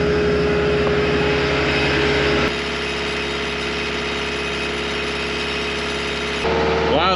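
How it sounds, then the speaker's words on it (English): An aging Caterpillar 299 skid steer loader engine runs close by with a steady, tonal mechanical hum. Its sound shifts abruptly as the revs change partway through, then jumps again near the end. "So let's go ahead and bring the RPMs up a smidge."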